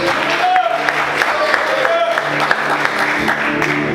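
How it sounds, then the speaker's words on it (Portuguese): Clapping from a church congregation praising God at an evening Portuguese-language service, dense and continuous, with a few whoops and a voice talking over the applause. "Aplaude o Senhor nessa noite"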